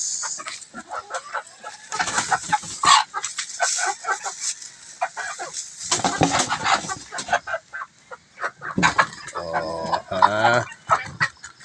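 Chickens clucking and squawking during an early morning feeding, close and busy in repeated bursts, with a dog barking among them.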